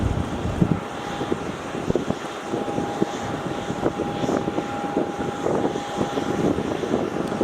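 A Scoot airliner taxiing toward runway 16 at Melbourne Airport produces a steady engine drone with a faint, constant whine, heard close up and continuous under gusty wind buffeting the microphone.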